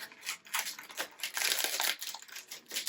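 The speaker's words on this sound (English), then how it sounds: "I'll put the Peeps in a plastic bag." Close, steady crinkling and crackling of a thin plastic bag in bursts as Peeps candy is put inside, handled for a few seconds with no voices.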